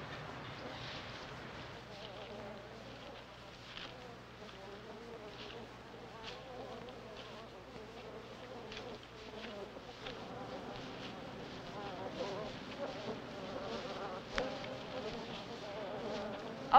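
Swarm of wild bees buzzing around a beehive outdoors, a dense continuous drone with individual insects passing near the microphone, moderately quiet with some wind noise.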